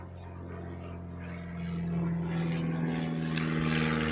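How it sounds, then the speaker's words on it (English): A small propeller plane flying overhead, a steady droning hum that swells slightly as it passes, heard alone and at a moderate distance. "Now we have a small plane going over."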